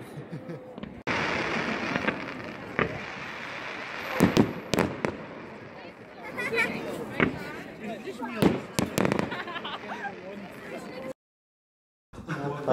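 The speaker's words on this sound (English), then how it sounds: "I'm having a fun time with the fireworks." Fireworks bursting outdoors at night in a series of sharp cracks and pops, some near and loud, with people talking in between and a brief silence near the end.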